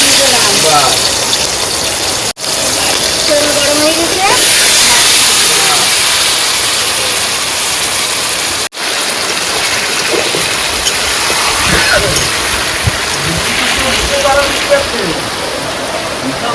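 Heavy monsoon rain pours down steadily, a loud, dense hiss on surfaces throughout, with two brief dropouts and faint voices under the downpour.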